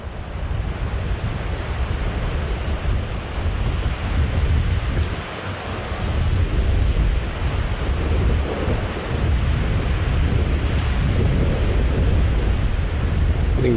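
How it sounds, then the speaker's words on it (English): Strong wind roars steadily across open African savanna at sunset during a safari drive, a dense continuous rush with slight swells and no talk. "Very windy now."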